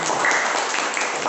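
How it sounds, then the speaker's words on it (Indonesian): Classroom applause, a short, dense burst of many hands clapping together at close range, steady throughout with no pauses. "kasih tepuk tangan dulu kepada"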